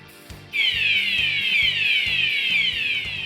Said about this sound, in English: Emergency shall be notified by a wailing siren.